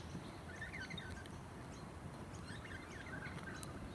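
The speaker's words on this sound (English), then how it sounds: "And you can hear a rush of water in the background." Steady distant rush of water pouring over a weir wall at the lower end of Laanecoorie Reservoir during flooding, a faint continuous wash with occasional bird chirps above it.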